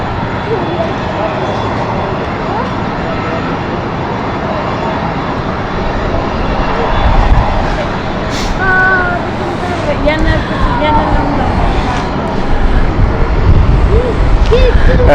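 An inbound airliner on the Glasgow flight approaches London City Airport, its engines a broad, steady roar that swells slightly toward the end, with someone talking over it.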